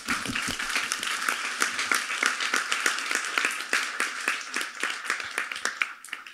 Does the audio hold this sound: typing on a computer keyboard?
no